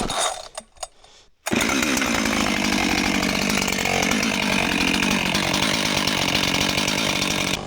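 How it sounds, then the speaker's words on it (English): In near-freezing weather with no choke, a Husqvarna chainsaw gives a few brief pull-cord rasps, then fires and runs at a loud, steady high whine, close by and continuous to the end. "That's the best starting chainsaw I've ever experienced."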